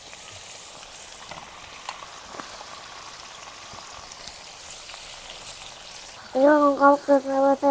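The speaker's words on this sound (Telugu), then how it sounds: "వంకాయ ముక్కలు వేసి మార్చుకోవచ్చుంది" Brinjal pieces fry in a pan for a village-style potato and brinjal curry, giving a soft, even sizzle with occasional light ticks, before a voice begins speaking near the end.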